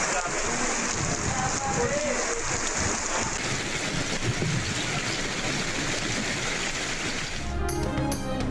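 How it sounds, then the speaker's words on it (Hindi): Rain falls in Tando Muhammad Khan, a dense, steady hiss that continues throughout and changes character near the end. "टंडो मोहम्मद खान में भी बारिश।"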